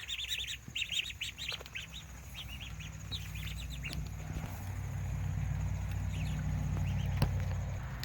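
Ducks kept alongside meat birds in a pen give off repeated chirpy calls early on, then fade under a rising steady rumble of wind or machinery.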